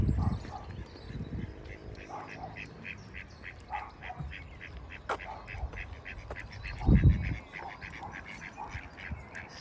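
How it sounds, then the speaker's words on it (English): A flock of ducks at a Poolsbrook caravan site quacks in rapid, steady repetition at moderate distance, with low rumbling outdoor noise and faint muffled sounds underneath. "Ducks all over everywhere."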